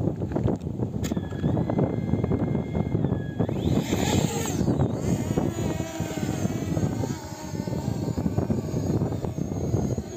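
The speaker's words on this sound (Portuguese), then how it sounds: "O vento tá dando aquela judiada." Wind buffets the microphone of a small FIMI X8 Mini drone in flight, a constant rough rumble under a thin whining motor tone, steady for the whole stretch.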